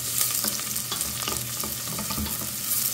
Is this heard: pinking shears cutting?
no